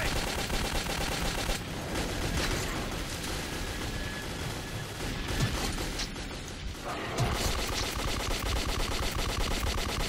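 Dense, rapid gunfire fills a battle in the video game Metro 2033 on Xbox 360, with sustained automatic bursts and overlapping shots that rattle on without pause, loud and close.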